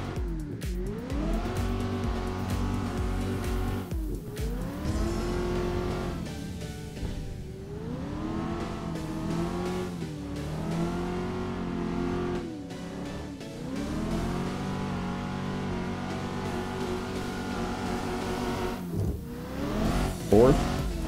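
A Corvette with a fiberglass body drifts across a snowy track in a racing video game, its engine revving and wavering continuously with changing pitch and tire squeal throughout, loud and near.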